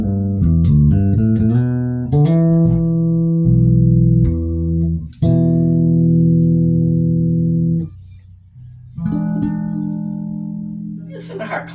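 Bass guitar strung with Ernie Ball Cobalt flatwound strings plays sustained, clean, round notes through an amplifier, several held tones and short phrases with brief gaps between them, loud and close with no talking.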